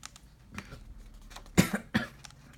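A woman coughs a few times indoors, with two sharp, close coughs standing out near the end after quieter rustling and faint breathy sounds.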